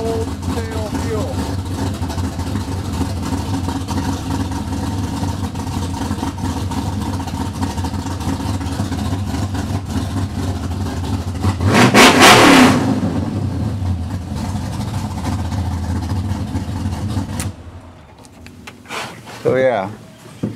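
A blower truck engine idling with a steady, close rumble, revving sharply once to a loud roar before settling, then cutting out near the end while a voice talks briefly.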